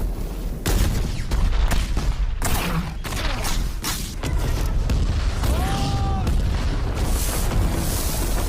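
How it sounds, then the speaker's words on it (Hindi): Heavy booming blasts go off repeatedly in a dense, chaotic barrage, loud and rumbling, like a battle with cannons firing, in a war scene from the film Panipat. "अपनी तोपें दागो इन पे।"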